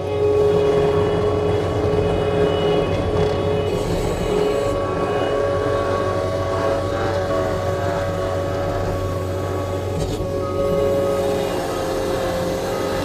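A 2019 New Holland L220 skid steer in single speed with its tires counter-rotating, giving a loud, steady engine and hydraulic drone with a constant hum that runs unbroken throughout, close by and with no talking.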